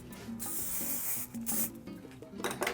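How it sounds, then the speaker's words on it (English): Hairspray misted onto a French roll updo in short hiss bursts, near and fairly quiet, with a pause between sprays and a final burst at the end. "I'm gonna spray it up a little bit"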